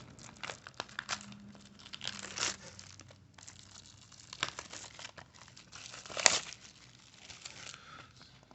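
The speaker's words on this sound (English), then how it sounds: "We're gonna just go ahead and open two of the boxes, pull the packs out" Close, intermittent crinkling and tearing of thin plastic trading card pack wrappers from Power of Elements boxes, with sharp rips and rustles in short bursts, fairly quiet overall.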